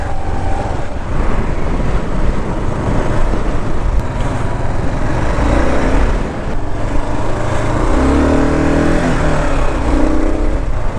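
A Kawasaki KLR 650 dual-sport motorcycle rides the Red Isle ATV trail, its single-cylinder engine droning loud and close throughout, rising and falling with throttle changes.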